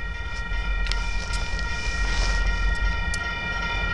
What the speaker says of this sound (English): This is the Union Pacific Railway.